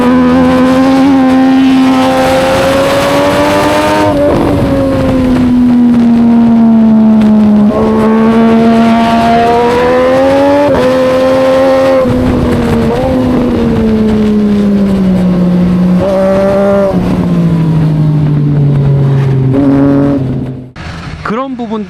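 A Triumph Street Triple 765 RS with a tuned exhaust at full speed on a race track: a loud, high-pitched engine wail that climbs and drops repeatedly through gear changes for about twenty seconds, ending more raggedly.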